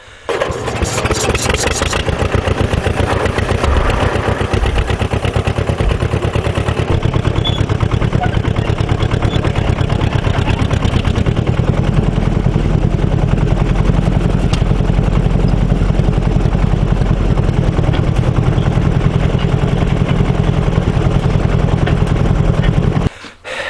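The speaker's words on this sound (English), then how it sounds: "You remember that old John Deere tractor?" An old John Deere tractor engine runs steadily and loudly throughout, a rough low chugging drone with a sputtering start, heard alone.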